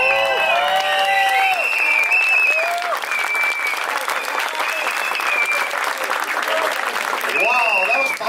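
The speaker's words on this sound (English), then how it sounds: "Big round of applause, ladies and gentlemen" A live audience bursts into loud, continuous applause after a stage performance, with whistles and cheering cutting through the clapping and voices calling out amid the crowd.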